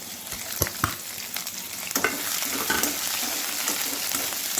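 Green chilies and mustard seeds frying in oil in a pan, a steady close sizzle with sharp crackling pops from the seeds, most dense in the first two seconds.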